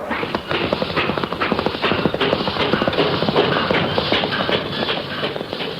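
Horse hooves galloping in a radio drama sound effect for a race against a small experimental locomotive, a dense, loud, rapid clatter of beats filling the whole stretch.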